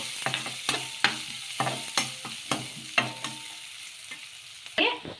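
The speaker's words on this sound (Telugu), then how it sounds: "ఇందులోకి చిన్నగా కట్ చేసి పెట్టుకున్న ఆనియన్ ముక్కలు వేసుకొని ఒకసారి బాగా కలిపేసుకోవాలి" Finely chopped onions fry in oil with mustard seeds, stirred in a steady rhythm of close spatula scrapes over a soft sizzle, with no talking.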